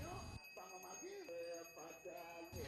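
Balinese priests in ritual dress ring genta hand bells while chanting prayers, giving sustained metallic ringing tones that shimmer throughout alongside murmured voices.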